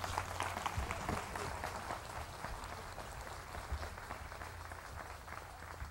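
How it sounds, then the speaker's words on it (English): An audience at a public talk in Ojai in 1977 applauds steadily throughout, a dense, even patter of many hands heard at a slight distance and filling the whole room. "Please, it's so unnecessary to clap."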